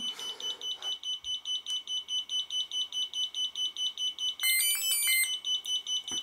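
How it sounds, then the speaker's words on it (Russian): An ESC speed controller for a ZOHD Drift model plane emits a steady series of short, high-pitched electronic beeps repeating rapidly, with a brief burst of different tones partway through. "по очереди он будет пикать от 1 до 4 раз"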